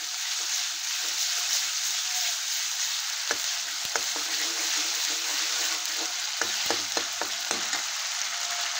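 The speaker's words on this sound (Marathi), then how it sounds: "मला चांगलं तेल सुटूस तोपर्यंत तळून घ्यायचं आहे." Ground ginger masala frying in oil in a pan for a curry of cut vade, with a steady, close sizzle and a few sharp clinks of a stirring spoon.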